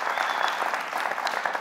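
Studio audience on a Family Feud-style game show breaks into steady, dense applause, a continuous close wash of clapping hands with no pauses.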